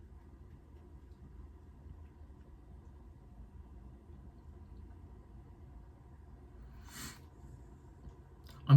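A vehicle engine in the Fortnite video game hums as a low, steady rumble at a moderate level for most of the stretch. A brief whoosh comes near the end and is followed by a sharp knock.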